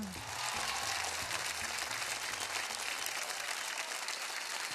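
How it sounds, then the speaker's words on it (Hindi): Sustained, loud applause from an audience, a steady wash of clapping that continues for the whole stretch without pause. "राजश्री के लिए जोरदार तालियां."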